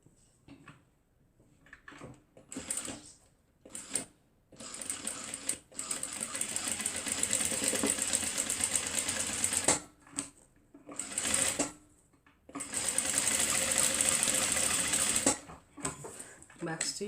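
A sewing machine back stitching a fabric face mask with a filter pocket, running in several bursts, the longest steady runs lasting a few seconds each, broken by short pauses and light handling noises.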